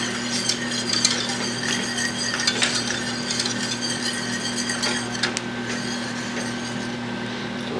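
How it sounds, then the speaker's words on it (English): A whisk works onions, butter and flour together into a sauce in a pan, a fast run of soft metallic ticks and scrapes over a constant background hum. "once you get everything whisked together here, the onions and the butter and the flour and all that"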